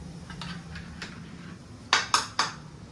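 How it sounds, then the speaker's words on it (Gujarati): A metal dish set down inside a steamer while making dhokla, with faint light clinks followed by three close, bright metallic clanks in quick succession. "હવે આપણે ડીશ અંદર મૂકી દીધી"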